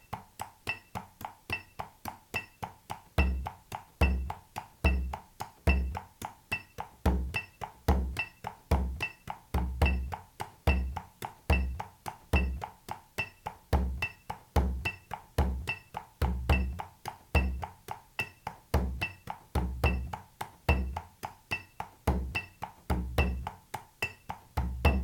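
A drum sticking exercise in jig time using double-down stickings plays out as a steady, rapid stream of crisp strokes in a lilting triplet pulse, with regular accented low hits, close and alone for about twenty-five seconds.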